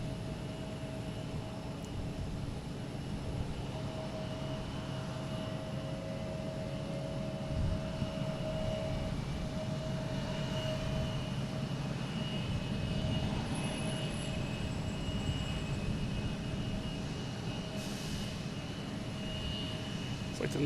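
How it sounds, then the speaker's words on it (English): An Embraer E175 regional jet at Boston Logan airport, a faint, far-off steady jet whine and roar lying low under hot open-air ambience, constant for the whole stretch without talk. "It's a E175, flight 4391."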